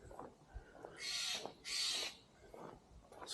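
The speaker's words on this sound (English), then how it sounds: "Squawky birds." Two loud, harsh bird squawks, each lasting about half a second, ring out back to back near a redwoods campground at Elk Prairie, Prairie Creek, with quieter calls and rustling in between.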